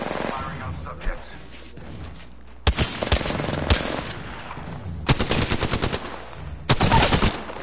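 Gunfire in the video game Apex Legends, rapid automatic bursts in several loud volleys separated by quieter stretches, with background game sounds and some talk underneath.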